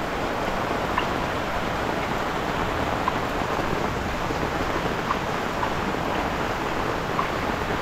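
Heavy rainfall during a storm with water rushing down a flooded street, a constant dense roar of rain and flowing water with no voices.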